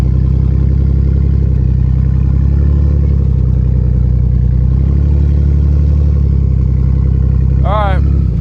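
A heavy Dodge Ram truck engine strains through deep beach sand, a loud, continuous low rumble with rough clattering texture, joined briefly near the end by a short high squeal.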